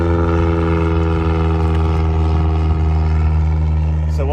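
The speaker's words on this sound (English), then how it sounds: "Let this plane pass by here." An airplane passes overhead near a New Orleans lakefront airport, a loud, steady, heavy engine drone that fills the whole stretch, with a voice faintly beneath it.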